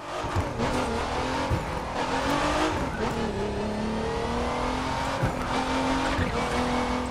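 Race car in The Crew 2 driving hard with a loud, steady engine roar, revving and shifting pitch, with repeated tire squeals and skids throughout.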